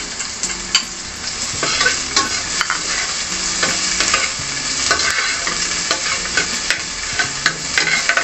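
Onion sizzles loudly in a hot pan while a utensil stirs it in repeated scraping strokes, close up, with no talking.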